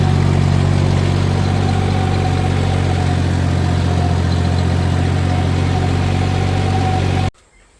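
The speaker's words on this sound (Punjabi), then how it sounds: "ਟਰੈਕਟਰ ਆ ਗਿਆ" A farm tractor engine running steadily at close range, a loud low throbbing drone with a constant hum that cuts off abruptly near the end, no voices.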